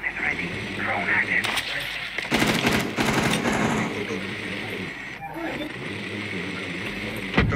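Rapid gunfire bursts from the video game Rainbow Six Siege, loud and dense in the middle of the clip, with game ambience and a voice talking over it.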